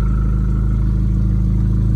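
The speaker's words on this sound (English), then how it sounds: "Amazing sound from this factory exhaust on these cars." Fiat Abarth 595 Competizione with its factory exhaust, valves locked open, idling with a loud, steady low burble and faint clatter, continuous and close with no voices.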